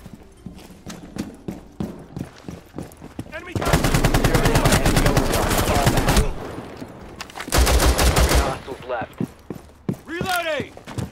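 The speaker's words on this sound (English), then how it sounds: "Shoot that guy." Gunfire from Rainbow Six Siege starts as scattered single shots, then turns into two long, loud automatic bursts of close-range fire, followed by more shots. Players talk over the shooting.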